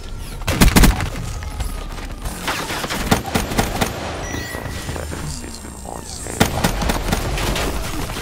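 Rapid gunfire from the player's weapon in a video game, loud sharp bursts and cracks in clusters near the start, around three seconds and again near six seconds, amid busy background noise and a talking voice.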